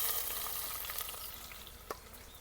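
Chopped onion and curry leaves sizzle steadily in hot oil for a Gujarati dal dhokli, a dense continuous hiss with a few soft stirring knocks and one brief clink near the end.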